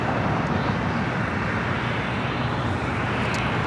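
A JetBlue airliner taking off from runway 25 right at LAX, a loud, steady broadband engine roar that holds constant throughout without breaks or voices.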